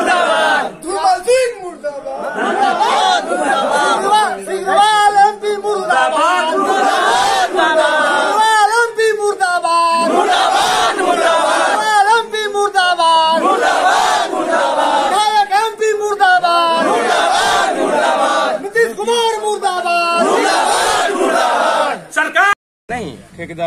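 A crowd of protesters at a road blockade shouts slogans against road construction in loud, rhythmic call-and-response bursts, many voices chanting together, close and continuous.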